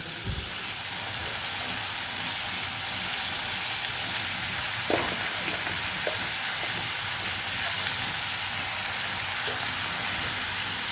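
Chopped coriander stems and tomato fry in a pan for a coriander-tomato chutney, giving a dense, steady sizzle throughout with a few faint pops, close and with no talking.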